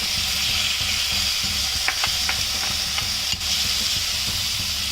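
Chopped parboiled spinach sautéing in a pan for a vegetable quiche filling, giving a steady close sizzle and frying hiss throughout, with a few light stirring clicks and no talking.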